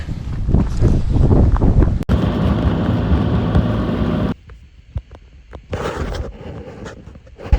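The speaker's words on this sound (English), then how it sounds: "It is, the wind's bad." Heavy, rumbling wind on a cold, snowy day buffets the microphone, loud and roaring at first, then drops to a quieter gusty hiss with occasional thumps before surging again.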